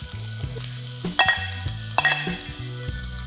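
Onions sizzle in hot coconut oil in a non-stick pan for a mushroom masala, close and fairly quiet, with a spatula stirring and scraping in uneven bursts.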